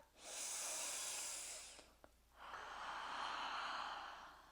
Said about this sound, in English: Now you keep going with that breathing.